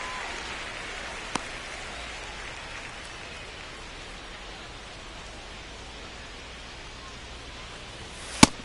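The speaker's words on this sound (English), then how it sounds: "This rain is not letting up" Steady rain falls as a dense, even hiss throughout a San Francisco Giants baseball video game, with one sharp click near the start and another near the end.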